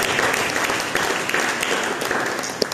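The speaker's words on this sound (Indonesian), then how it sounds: "Mari kita bikin tepuk tangan bagi" Congregation at a church service breaking into applause, a thick, even wash of many hands clapping together, loud and continuous.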